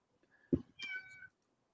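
A house cat gives a single short meow, a drawn-out plaintive cry close by and fairly quiet, preceded by a soft thump in an otherwise silent room.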